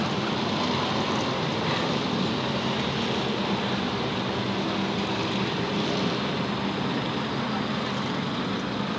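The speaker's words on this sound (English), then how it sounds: "Well, it's the plane." A propeller airplane drones overhead above a speedway, a steady, broad engine hum that holds evenly throughout with no voices.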